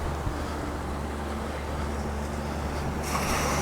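Water splashes steadily out of a drain at an outdoor wetland park in the rain, a continuous wash of noise with a low rumble underneath that turns slightly brighter near the end.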